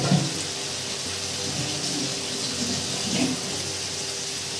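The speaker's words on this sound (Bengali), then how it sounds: "এখানে একটু জল দিয়ে দিলাম।" Water pours into a bowl of yogurt-marinated chicken, a continuous hissing splash like a running tap that holds steady for several seconds, with no talk.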